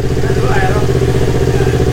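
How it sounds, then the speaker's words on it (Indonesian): A Yamaha R25 motorcycle engine with an aftermarket Akrapovic exhaust idles steadily with a deep, throaty exhaust rumble, continuous and close throughout. "Apalagi ini gue udah ganti knalpot pakai Akrapovic-nya punya Dika."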